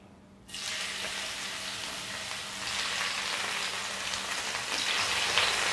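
Steady hiss and crackle of ash gourd frying in hot ghee, starting abruptly after a short quiet moment and continuing loudly throughout.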